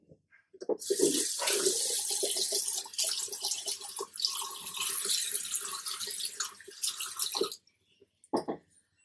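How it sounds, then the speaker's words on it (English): Running tap water splashes as a face and cleansing brush are wetted at a sink, close and fairly quiet, with brief pauses, then the flow stops and a couple of short splashes follow. "All you need to do is just wet your face and then also damp the brush a little bit"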